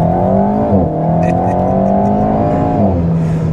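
A 2021 Alpine A110 with its 252-horsepower turbocharged four-cylinder pulls hard through the gears, engine note climbing, dropping at a shift, then rising again, loud and close from inside the car with no talking.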